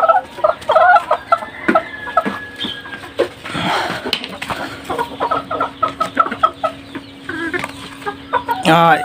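European Silkie and Sultan chickens on a farm, clucking and calling in irregular bursts amid rustling and background noise, with a sustained low hum and a sharp loud squawk near the end.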